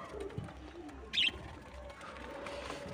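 Pigeons cooing faintly at a feeding spot amid quiet ambient noise, with a brief sharper bird call near the middle; no talking.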